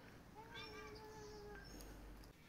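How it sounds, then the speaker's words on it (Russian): A cat meows once, a faint tonal, slightly wavering cry in a quiet indoor space, with faint voices in the background. "Кошка-то мяу-мяу-мяу-мяу."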